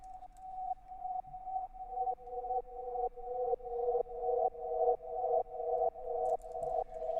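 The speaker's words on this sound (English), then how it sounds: "We can even slow it down and create a lush swell." A mellow synth tone with slow LFO modulation swelling up and cutting off in slow repeating waves, each swell rising gradually before dropping, steady and alone.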